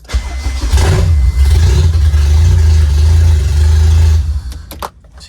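A Honda K24A2 engine in an AWD RD1 Honda CR-V cranks briefly and fires right up, settling into a loud, close, steady rumble for several seconds before dropping off near the end.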